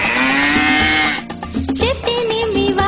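A cow moos in a long, loud, drawn-out call, followed by a busier stretch of shorter bellowing sounds, heard up close with no talking.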